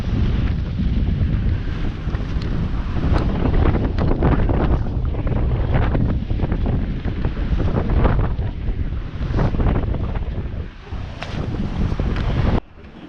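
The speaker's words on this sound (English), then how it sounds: "Wind's definitely not letting up." Strong wind roars past a sailboat running under a double-reefed mainsail, with waves surging and slapping the hull in uneven bursts. The wind buffets the microphone steadily throughout.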